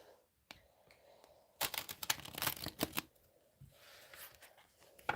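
A stained glass tarot deck shuffled in a dense burst of crisp card riffling, with quieter handling of the cards before and after.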